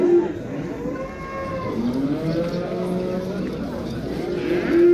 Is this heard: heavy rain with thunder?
no